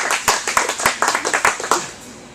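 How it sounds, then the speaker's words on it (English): A small studio audience claps for a guest on a talk-show couch, a short burst of a few hands with distinct, close claps that taper off within about two seconds. "Folks, let's give him a round of applause."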